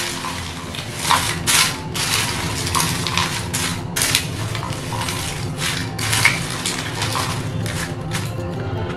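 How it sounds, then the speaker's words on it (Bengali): Broken papad chaat pieces and spices are mixed together in a bowl without oil, making repeated crunchy rustling scrapes and light utensil knocks in a steady, brisk rhythm, close and with no talking. "আবারও একসঙ্গে ভালো করে মিশিয়ে নিতে হবে।"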